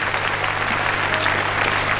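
An audience claps for the children on a televised French talent show for young performers. Dense, steady applause fills the whole moment with no pauses and no voices.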